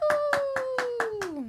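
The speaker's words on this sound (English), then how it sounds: "This where they clap." About six evenly spaced claps ring out in a quick steady rhythm over a sustained, gradually falling hummed or sung voice.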